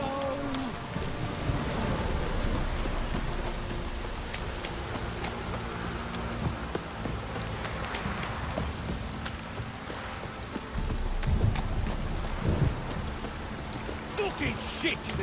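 Heavy, continuous rain pours with a low rumbling undertone of thunder in the video game The Witcher 3, loud and steady throughout, with faint voices murmuring beneath it.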